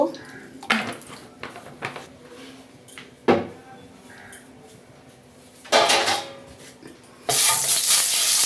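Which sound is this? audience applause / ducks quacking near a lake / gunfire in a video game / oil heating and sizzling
oil heating and sizzling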